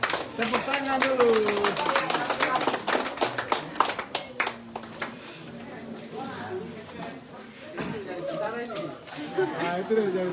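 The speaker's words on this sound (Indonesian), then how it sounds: "Tepuk tangan dulu." A group of people clap their hands in a quick flurry of sharp, close claps that thins out and fades, while voices talk and chatter over and after the clapping.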